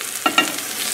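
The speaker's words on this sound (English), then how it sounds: "In we go with the veggies now." Vegetables dropped into a pan of hot butter with pork for garlic pork with mushrooms, giving two quick bursts of sizzle followed by a steady, moderate frying hiss with no talking.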